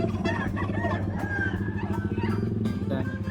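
A rooster at a busy pet market in Baliwag clucks and calls close by. Other birds and crowd chatter fill the background, and voices talk throughout.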